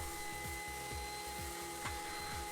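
Power sander working on maple burl, a steady mid-level motor whine with a rhythmic pulsing grind as the sander moves over the wood, alone without talk.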